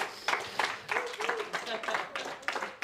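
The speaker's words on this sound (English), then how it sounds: "a round of applause for both players" Audience applause after a professional women's pool final on the IPA Pool Tour, Isle of Man, with bursts of clapping rising and falling in waves at moderate volume.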